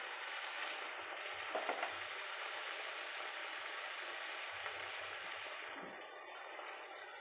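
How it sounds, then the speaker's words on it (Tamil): Tomatoes with a little salt sizzle and fry steadily in a pan, a soft continuous crackle with occasional light stirring clatter and no talking. "3 தக்காளியை நல்லா சேர்த்து வதக்கி விட்டுடலாம்."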